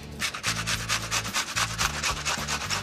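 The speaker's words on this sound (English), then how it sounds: "We're actually going to grate them. The potatoes get really nice and crispy. I mean, seriously crispy. Now, the onion." Rhythmic back-and-forth strokes of an onion rubbed against a box grater, about a dozen close, even rasping passes with no talk.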